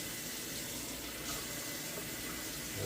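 Water runs steadily from a tap in a kitchen while preparing a small amount of liquid for a beignet batter, a continuous close hiss with no talk.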